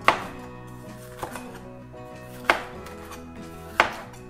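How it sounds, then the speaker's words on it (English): A knife chops a green bell pepper on a cutting board in a kitchen, four distinct sharp knocks spaced about a second and a quarter apart, close and clear over a quiet background. "my bell peppers are chopped"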